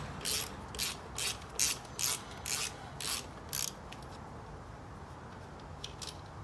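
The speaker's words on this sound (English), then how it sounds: "this is a 17 millimeter bolt here, so you basically just unscrew it" Ratchet wrench loosening a 17 mm bolt on a Yamaha PW80 motorbike during a rear tire change, giving a run of about eight quick, even clicking strokes up close before falling quiet.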